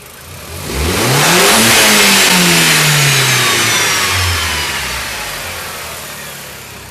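A car engine revs up sharply during an oscilloscope sensor test, climbing to a loud roar, then slowly winding back down toward idle, with no talking.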